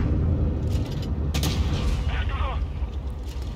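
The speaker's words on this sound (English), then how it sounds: "Another nice shot into the Conway." Heavy cannon fire and impact in World of Tanks Blitz as a shell strikes a Conway tank destroyer, with a sharp boom standing out over a continuous loud rumble of engine and battle noise.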